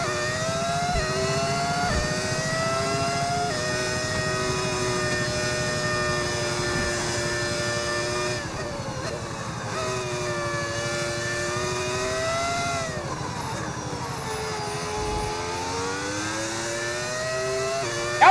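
In the F1 25 video game, a Porsche Formula 1 car engine screams at high pitch, holding and shifting through repeated rises and dips as gears change, steady and sustained for the whole stretch with no voices.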